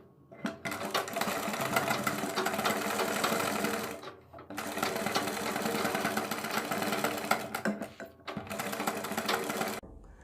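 Electric sewing machine stitching a kurti neck, running in three long continuous bursts of steady, loud motor whir with brief pauses between runs.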